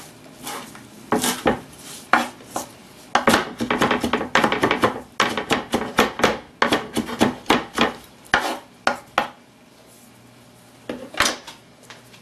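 A knife chops fresh parsley on a board in an irregular run of sharp, close taps, with bursts of quick strokes separated by brief pauses.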